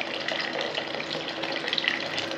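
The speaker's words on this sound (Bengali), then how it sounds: "মিক্সির বাটি দেওয়া জলটা দিয়ে দিলাম" Water from a rinsed mixer grinder jar poured into a simmering gravy, a steady close splashing flow that runs on without a break and with no voices.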